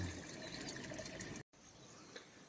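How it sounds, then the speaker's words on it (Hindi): Cold water poured over the body during a morning bath in a village setting, a steady close splashing gush that stops abruptly, followed by a quieter dripping trickle. "नहा लिया मैंने पूरा ठंडे ठंडे पानी से सुबह सुबह"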